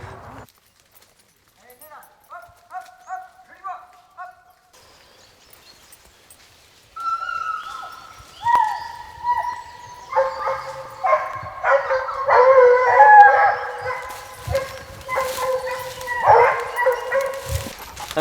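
A pack of hunting hounds bays repeatedly while searching small thickets for a fox outdoors. The cries start sparse and faint, then grow into overlapping, fairly loud yelps and howls.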